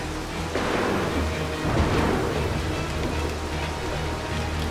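Heavy rain pours steadily in the stealth game Mark of the Ninja, a dense broadband wash with a few swelling gusts, continuous and fairly loud throughout with no talk over it.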